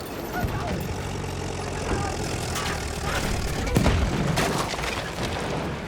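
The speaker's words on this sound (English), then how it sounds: "And these are the anti-tank grenades. They're pretty effective against armor." Anti-tank grenades going off in Battlefield 1, heard as dense, loud, continuous battle noise with rumbling booms and a sharper blast near the middle, and no clear gap between explosions.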